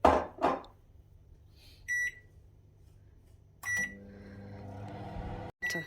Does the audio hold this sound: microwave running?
yes